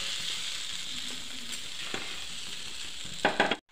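An egg with kanthari chili frying in hot oil for a rustic omelette, a steady close sizzle and crackle that rises into a few louder spatters just before ending abruptly.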